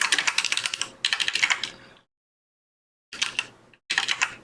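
Fast typing on a computer keyboard, dense runs of crisp key clicks in short bursts, separated by a full second of silence and then two shorter flurries, close and clear.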